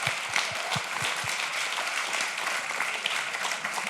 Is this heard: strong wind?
no